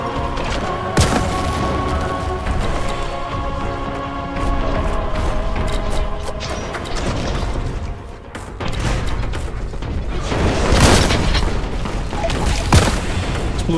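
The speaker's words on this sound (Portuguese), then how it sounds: "Granada crack. O que essa granada faz?" Grenade blasts and booming gunfire from the Warhammer 40k Boltgun game roll over a dense, busy combat din, with sharp bursts near the start and a larger explosive surge around the later part.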